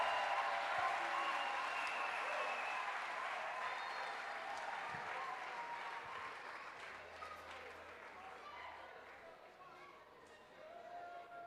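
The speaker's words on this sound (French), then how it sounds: "Let's clap for the Lord." A church congregation claps and applauds in praise during a testimony service, a broad wash of clapping that gradually fades over about eleven seconds, with some crowd chatter mixed in.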